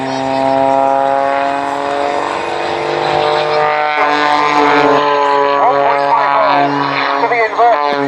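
A propeller aerobatic plane flying negative-G flips and tumbles at the 2017 Abingdon airshow, its loud buzzing engine drone shifting pitch through the manoeuvres while a commentator talks over a public address.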